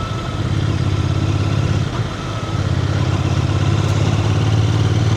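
A Royal Enfield Bear 650 motorcycle runs close by with a steady, low throbbing engine note, dipping briefly near the middle before settling back to a constant, loud rumble.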